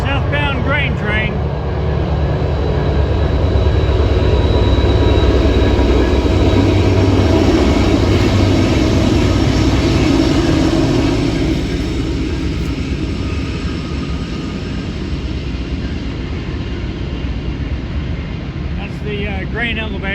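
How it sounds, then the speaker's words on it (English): A southbound freight grain train rolls past near Princeton, Indiana with a loud, continuous rumble and clatter of railcars that stays close and heavy, easing slightly toward the end, with no talking. "Southbound grain train."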